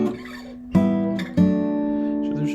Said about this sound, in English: That just means play those a little shorter.